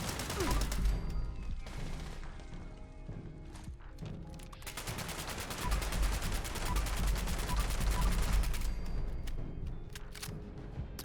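Rapid automatic gunfire from a video game weapon rattles in long sustained bursts, with short pauses between volleys and a few impact crashes, no speech.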